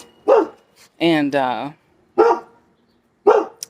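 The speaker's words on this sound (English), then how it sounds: "the dog, the neighbor, he's back." Neighbor's dog barking outdoors near a greenhouse under cleanup, a few sharp barks spaced apart with a longer yelping run in the middle, fairly loud and close, with a person briefly talking.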